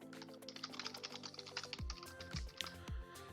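Soft, quick taps on a phone or tablet touchscreen keyboard as a name is entered, a short run of light clicks at low level with a few faint descending tones.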